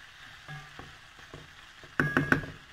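Vegetables such as corn and carrots stirred in a frying pan for quick pasta, soft sizzle with a few scraping stirs and a louder clatter of utensil against the pan near the end, close, no talking.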